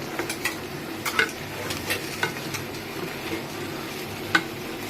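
Chili paste being mixed into a cooking pot for jackfruit biryani: light scraping and stirring with sharp utensil clicks against the pot at an irregular rhythm over a soft background sizzle.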